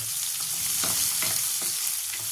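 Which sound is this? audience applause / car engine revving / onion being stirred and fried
onion being stirred and fried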